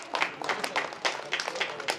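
Applause from an audience at a Tamil comedy debate stage event, a dense wash of many hands clapping with uneven swells and dips over two seconds, fairly loud and steady with no talk over it.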